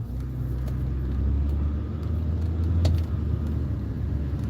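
A car idles quietly, giving off a low, steady engine rumble close by with only slight swells in level.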